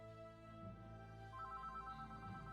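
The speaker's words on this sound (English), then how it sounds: "Really, phone? You gotta just ring up like that." A phone rings indoors, a faint electronic tone pattern repeating in quick pulses behind a low steady hum, with no voices present.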